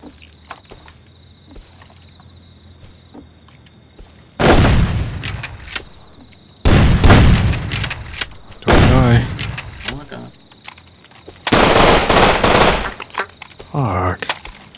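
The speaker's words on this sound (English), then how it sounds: "Oh, they're shooting over our heads." Enemy gunfire in the video game Rust comes as several loud, sustained bursts of rapid automatic fire from a hill, separated by quieter stretches with a faint steady tone.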